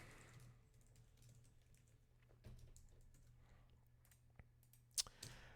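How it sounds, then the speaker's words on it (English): Fingers type on a computer keyboard, producing faint, irregular clicks close by in an otherwise quiet room. A couple of slightly sharper keystrokes come near the end. "Just typing down the title of this new episode."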